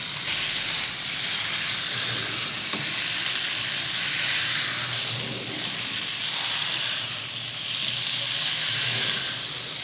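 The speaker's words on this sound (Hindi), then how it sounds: "मटन को प्याज और अदरक लहसुन के साथ अच्छी तरह भून लें।" Mutton sizzling loudly in a pan with onion, ginger and garlic, a dense continuous hiss and crackle close up with faint stirring, no talk.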